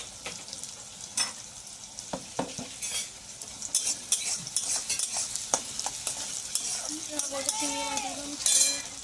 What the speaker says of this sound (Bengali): পেঁয়াজ আর রসুনটা খুব বেশি ভাজলাম না